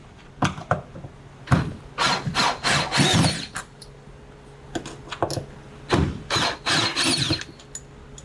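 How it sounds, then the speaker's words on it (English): A cordless drill whirs in repeated short bursts, pausing between runs as screws are backed out of a GE washer door, close and fairly loud. "I'm going to use a drill just to try to keep my hand out of the way"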